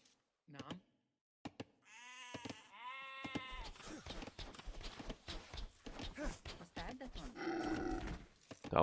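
Sheep bleating in a medieval strategy game, several drawn-out, wavering bleats near the start, then a busy mix of clopping hooves and game sounds with a voice talking over them.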